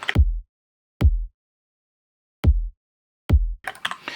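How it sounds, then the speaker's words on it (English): Two layered kick drum samples hit together in isolation, four separate deep thumps with sharp clicky attacks, spaced unevenly across the stretch and left alone in silence, with a short burst of brighter noise at the very end. "So those kicks in isolation together sound like this."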